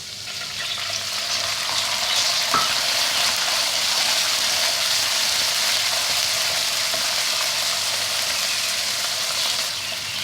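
Finely chopped chicken with garlic fries in a pan, giving a steady, close, continuous sizzle with no talking.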